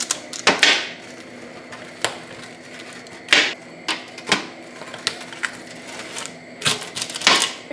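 Homemade biscuits are cut up on a board, making irregular sharp knocks and crunchy chops that come up close, some in quick pairs and others spaced apart.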